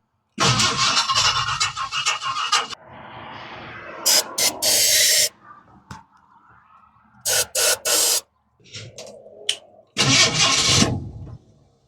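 A Ford 4.6 V8 swapped into a 1964 F100 cranks in several loud bursts, with hissing and sputtering between tries as the engine struggles to catch and briefly runs, close by.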